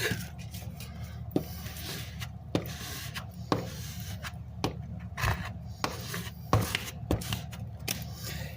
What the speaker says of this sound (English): we're going to go ahead and burnish that down right quick